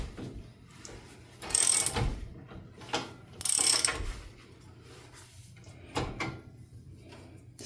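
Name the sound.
ratchet tightening brake bolts on 65 Chevelle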